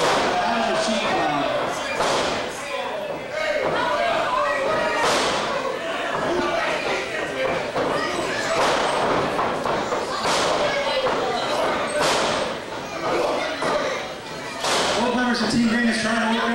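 Professional wrestling match with bodies repeatedly slamming onto the mat in a loud arena, heavy thuds recurring throughout under constant crowd noise and excited commentary.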